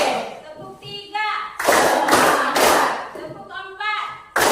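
Classroom of pupils clapping hands in rhythm, several loud sharp bursts of claps in quick groups, with a teacher's voice speaking between them.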